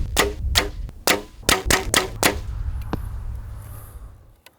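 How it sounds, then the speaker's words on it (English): A Mathews compound bow from 2022 shoots arrows down range outdoors, giving a quick series of sharp, close snaps and thwacks in an uneven rhythm. A single fainter release follows before everything tails off into quiet. "we're going to go ahead and send a few arrows down range"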